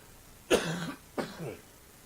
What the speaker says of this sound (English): coughing all over the place